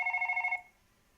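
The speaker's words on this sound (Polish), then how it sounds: "O, dzwoni telefon." A telephone rings in a late-night office setting, giving one rapid trilling burst of bell pulses that cuts off after about half a second, leaving quiet room tone.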